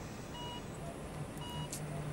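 A mobile phone rings again with faint, intermittent electronic tones, quiet and a little distant in a hushed hospital room.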